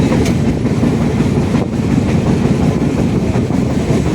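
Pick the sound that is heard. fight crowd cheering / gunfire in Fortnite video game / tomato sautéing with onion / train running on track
train running on track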